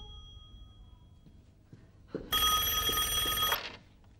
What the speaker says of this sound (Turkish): Anne, telefon çalıyor.